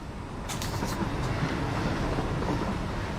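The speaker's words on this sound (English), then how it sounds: "Oh, here comes a train." A train arrives in the video game Satisfactory, a loud sustained rumble with broadband rolling noise and a brief higher burst near the start, no talk over it.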